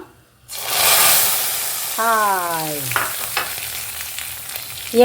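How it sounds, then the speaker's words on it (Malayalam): Mustard seeds, fenugreek, dried chillies and curry leaves frying in oil for moru rasam, a loud, steady sizzle close up that starts abruptly, with a brief spoken greeting over it partway through. "ഒരു കാൽ ടീസ്പൂൺ ഉലുവ പിന്നെ ഒരു മൂന്ന് വറ്റൽമുളകും കുറച്ച് കറിവേപ്പിലയും ഒരു മുക്കാൽ ടേബിൾ സ്പൂൺ എണ്ണയിൽ വറുത്തിടാം"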